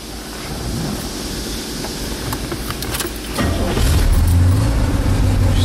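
A 1969 Corvette Stingray with a 427 engine cranks and fires, its rumble building to a deeper, louder idle after a few seconds over steady background noise.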